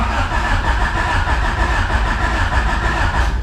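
A car engine, sprayed with brake cleaner while a manual transmission goes in, turns over continuously up close with a dense, even churning drone that never catches.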